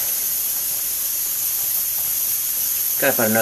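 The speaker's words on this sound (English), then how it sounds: "Got the second pressure cookers up to steam." An old pressure canner vents steam while canning butternut squash. It gives a loud, steady hiss that runs throughout, with a voice starting at the very end.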